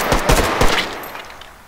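An M16 fires in the VR shooter Hot Dogs, Horseshoes and Hand Grenades: three quick close shots, then a fading tail.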